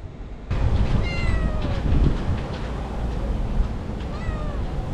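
A small cat meows repeatedly at a building renovation site, several drawn-out mewing calls rising and falling over a steady loud background hum, close to the listener.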